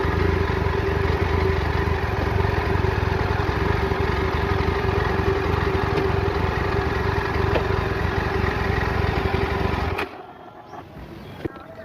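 A Yezdi Adventure motorcycle engine running steadily in gear without throttle, a loud, even idle-like drone that cuts off abruptly near the end, leaving quiet background.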